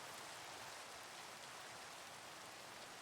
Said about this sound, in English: the rain scared me